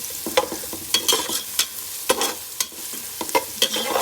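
Garlic and ginger fry as oil sizzles and crackles steadily in a pan, broken by the sharp scrape and clack of a spoon stirring, with no voices.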